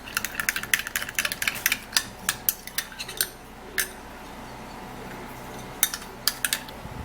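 A spoon stirs a tomato and egg mixture into rice puree in a bowl, giving quick rhythmic clinks and scrapes in bursts, with a quiet pause before a few more taps at the end.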